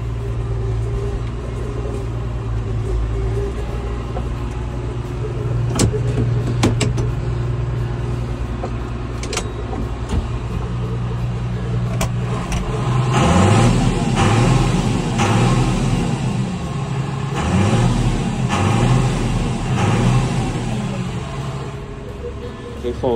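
A John Deere 6610 tractor engine idles with a steady low diesel rumble, briefly revving in repeated swells, while someone talks over it.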